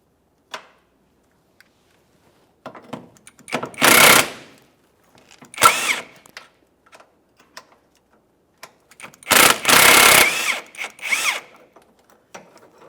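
Ratcheting and power-driven bursts of an 18 mm wrench spinning off a radiator support body mount nut on a 1999-2006 Chevrolet Silverado, in three loud broadband bursts with scattered clicks and clanks between them.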